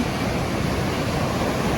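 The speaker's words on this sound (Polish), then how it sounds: "Ale morze jest cudne, te fale." Sea waves breaking on a Polish Baltic shore near Gdynia, a steady loud broadband wash of surf with no pauses, heard alone without talk.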